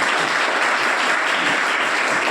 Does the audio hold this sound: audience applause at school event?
yes